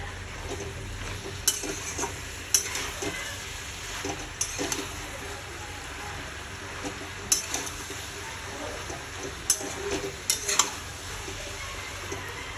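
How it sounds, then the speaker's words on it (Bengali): Water spinach being stir-fried in a pan for a fish curry with potato and green banana, a steady sizzle broken by intermittent scraping strokes of a spatula against the pan, with no voice over it. "তো এটাকে এখন আমি এইভাবে কষিয়ে নেব।"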